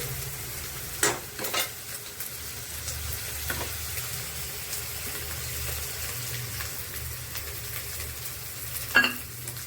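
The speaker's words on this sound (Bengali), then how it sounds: "এই যে তেঁতুল গলা জলটা এখন দিয়ে দেব শাকের ভিতর" Tamarind water poured into red amaranth greens cooking in a pan, giving a steady low sizzle and bubbling with a few soft stirring knocks, close and fairly quiet with no talk.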